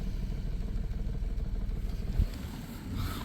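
A 1997 Dodge Caravan LE engine idling on five cylinders with one spark plug wire disconnected, a loud, steady low rumble with a rhythmic uneven pulse and a brief clunk partway through.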